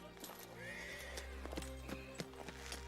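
A horse whinnies clearly in a film scene set at a king's camp, with hoof clip-clop and low rumbling background, and a voice briefly underneath.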